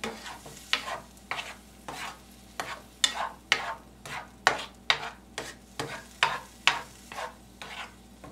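Noodles with a couple dashes of teriyaki sauce get stirred in a sizzling pan: a steady rhythm of about fifteen scraping, clacking stirs over a soft frying hiss, close and fairly loud, with no voices.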